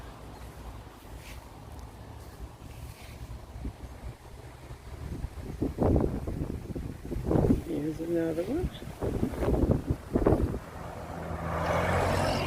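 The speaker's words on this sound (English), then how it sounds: "See how windy it is? It's always windy." Steady wind rushes and buffets the microphone throughout in a spring cottage garden in upstate New York, with a person talking briefly over it partway through.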